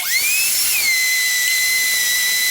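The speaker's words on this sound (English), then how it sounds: "we're going to grind this and we'll be back with you in just a second" An electric grain mill grinding grain into flour for biscuits, a loud high-pitched steady whine that ramps up in pitch then settles into a constant hissing drone, close and alone.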